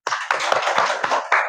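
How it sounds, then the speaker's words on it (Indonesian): A classroom of students claps for groups 1 and 2 in a few short, uneven bursts, fairly close and bright, with no talking over it. "Tepuk tangan untuk kelompok 1 dan 2."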